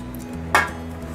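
A single clattering metallic knock as a metal baking tray is picked up or set down in a kitchen, over a steady low hum.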